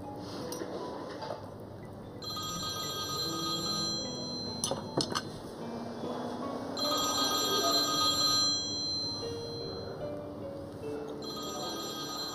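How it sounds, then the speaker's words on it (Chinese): A telephone rings in repeated electronic bursts in an indoor dining scene, with faint clinks of dishes and cutlery in between and no talking. "怎么不接电话呀？"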